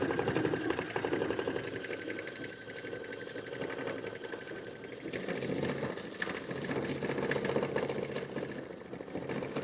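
Sewing machine racing at full speed through a blanket-stitch appliqué, a dense rapid mechanical chatter that runs continuously and fairly quietly throughout, with no pauses.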